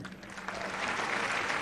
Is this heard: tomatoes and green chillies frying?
no